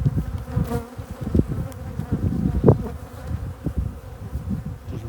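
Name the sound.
bees buzzing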